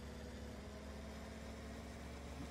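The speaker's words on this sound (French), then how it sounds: "On entend bien le vario sur ce tracteur là." A video-game tractor with a vario continuously variable transmission idles steadily, its low engine drone and faint whine holding at an even pitch throughout with no talking.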